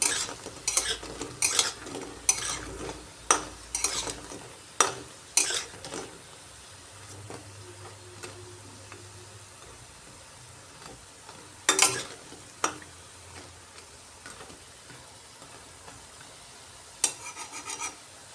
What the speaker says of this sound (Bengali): সবগুলার এইভাবে উল্টে দিলাম বেশি কড়া করে ভাজবো না যেহেতু এগুলা ফুলকপির মধ্যে দেব